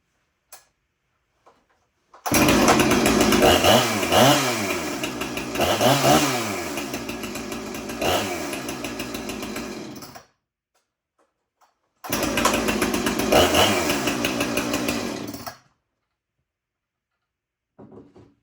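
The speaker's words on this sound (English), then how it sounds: "That Husqvarna 455 wrencher starts up in the 3rd pull" A Husqvarna 455 Rancher chainsaw, started in freezing cold, runs loud and close in two long bursts with revving swells and a gap of quiet between them.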